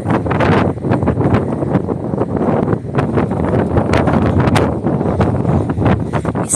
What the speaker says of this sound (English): super windy outside today